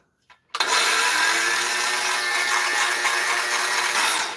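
A cordless battery-powered saw gives a brief click, then starts up and runs at a steady, loud, high-pitched whine with a harsh rattling edge, holding constant until it cuts off at the end.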